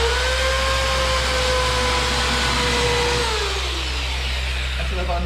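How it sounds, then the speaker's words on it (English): A power sander runs along the bottom of a wooden fire pit with a loud, continuous whine and hum. Its pitch drops partway through as the load changes. "So I'm just going to run the sander along the bottom."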